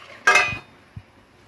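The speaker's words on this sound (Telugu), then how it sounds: "కొంచెం మూత పెడదాం" A metal lid lands on a pan of frying chicken with a sharp ringing clang, followed moments later by a soft low knock.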